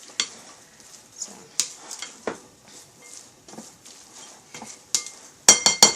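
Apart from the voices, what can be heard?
stirring pork and beef in a cooking pot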